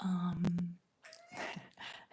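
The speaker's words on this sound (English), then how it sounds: "it's my cat. My cat's here." A pet cat meows at a moderate distance in a quiet indoor room, short plaintive calls coming after a low, steady hum, with no talking over them.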